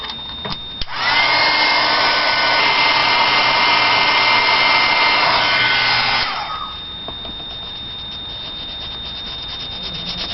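A heat tool melting embossing powder on a pumpkin stamp switches on and blows with a steady, loud, fan-like whoosh for about five seconds, then winds down to a lower hum with a thin high whine.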